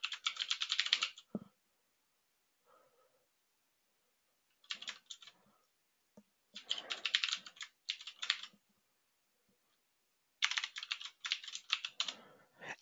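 Fingers typing on a computer keyboard in short clattering bursts separated by pauses, close and fairly clear with no talk.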